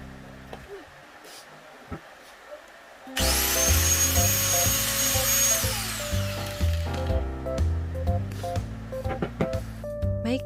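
A budget angle grinder spins up loudly and runs with a steady high whine, close by, its pitch wavering as it keeps running.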